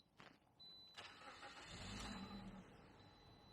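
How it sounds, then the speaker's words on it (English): A car engine starting after a remote kill switch is switched back on: a brief crank followed by the engine catching and settling into a steady idle, close and fairly quiet. "To start my car back up, I hit the on button"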